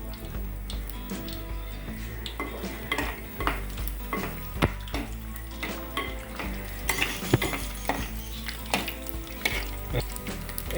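Coconut pieces fry in coconut oil in a clay pot, with a steady sizzle under repeated scraping stir strokes and small knocks against the pot, close and continuous.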